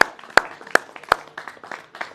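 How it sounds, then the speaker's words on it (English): Thin, scattered hand clapping for phone volunteers who took bids during a live-streamed television art auction, a few sharp claps at a steady pace followed by looser, lighter claps, close and with no voices. "Please give yourselves a round of applause"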